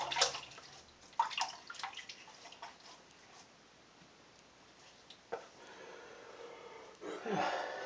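Water runs and splashes as a face is rinsed off after a shave, a faint intermittent trickle with a few louder splashes at the start and again near the end.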